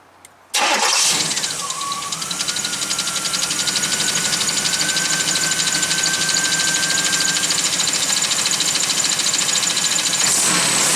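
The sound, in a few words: third-generation Pontiac Firebird engine running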